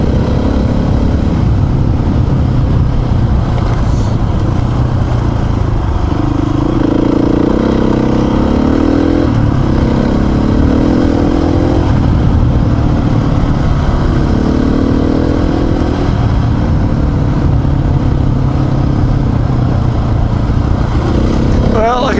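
Motorcycle ridden offroad on a long-distance dirt trail adventure, its mid-pitched engine droning steadily and loud throughout, with rising and falling revs as the rider works the throttle, plus wind buffeting.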